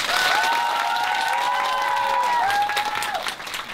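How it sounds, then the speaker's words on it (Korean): A crowd of middle-school girls applauds in a small theater just before a play begins, with dense steady clapping and high tonal squeals or whistles riding over it for several seconds. "여러분들의 큰 박수 소리와 함께 저희 공연 시작하도록 하겠습니다."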